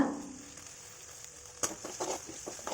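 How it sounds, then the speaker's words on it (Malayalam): Crushed ginger, garlic and spices fry in hot oil with a quiet, soft sizzle, followed by a few brief clinks and stirring scrapes toward the end, close but low in level. "അത് എണ್ണയിലിട്ട് നന്നായിട്ടൊന്ന് മൂപ്പിക്കാം"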